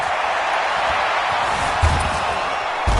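Stadium crowd noise from the Madden 20 football video game ahead of a big third down, a continuous loud roar with a couple of low thumps, no clear voices over it.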